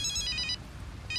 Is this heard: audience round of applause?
no